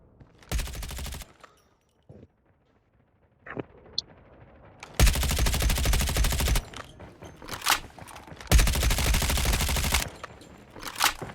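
An AK-117 rifle fires in the mobile shooter Call of Duty Mobile, with three long full-auto bursts separated by quieter gaps holding a few single shots and small effects, loud and close with no talking.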